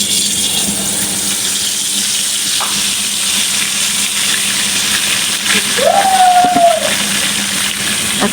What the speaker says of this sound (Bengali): এখন মাছটা ভাজা হতে হতে আমি একটু সালাদ রেডি করে নিব।